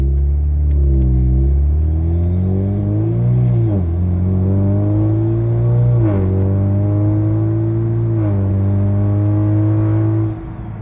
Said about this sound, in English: Do it a higher rev. I can hear that turbo spool.